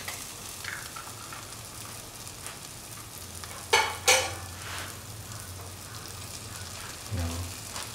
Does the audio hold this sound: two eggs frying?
yes